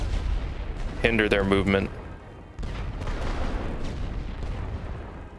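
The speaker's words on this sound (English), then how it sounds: "I'm going to try to keep dropping artillery on them, even in these trenches" Artillery shells pound enemy trenches in a World War I Western Front strategy game, with heavy blasts and a steady battlefield rumble throughout while someone speaks briefly near the start.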